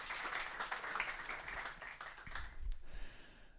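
Faint audience applause at an AI talk as the next speaker is welcomed, a soft patter of many hands clapping that thins out toward the end.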